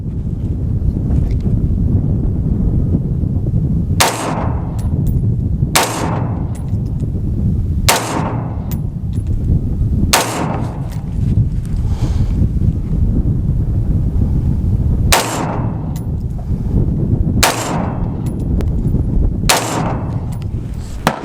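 Rifle shots from a Lead Star Grunt AR-15 firing PMC X-Tac 5.56 NATO 55-grain full metal jacket ammunition at an outdoor range, about eight sharp, loud reports at irregular intervals over steady wind noise, with no talking.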